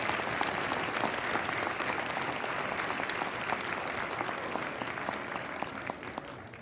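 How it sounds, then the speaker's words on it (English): Sustained applause from the audience at the Ohio Fairs Queen contest, a dense, steady wash of many hands clapping that stays fairly even throughout and tapers slightly at the end, with no talking over it. "And let's get one big round of applause for all of our Queen contestants."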